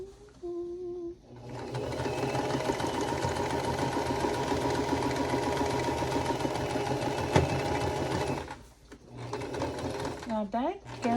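Sewing machine stitching a vintage-style quilt block, a steady close mechanical whir running for several seconds before stopping, with brief voices heard around it.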